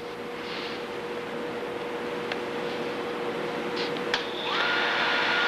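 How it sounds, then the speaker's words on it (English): CUTTERMASTER sharpening machine set up for countersink sharpening, its motor whirring steadily and close, with a brief click and a rise in whine near the end, no talk. "Now turn the motor on."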